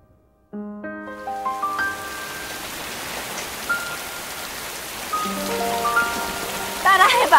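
Steady rain pouring down, a dense even hiss that starts abruptly and continues throughout, heard under layered sustained musical tones that rise and fade.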